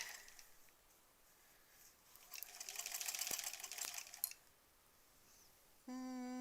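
A home sewing machine stitching rows of a granny squares quilt runs in a fast steady buzzing burst for about two seconds, fairly close but quiet, then stops, followed by a brief electronic beep.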